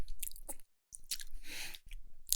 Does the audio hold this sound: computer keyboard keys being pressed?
no